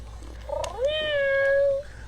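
A cat gives a single clear, drawn-out meow, rising and then holding steady, close and loud over low background hum.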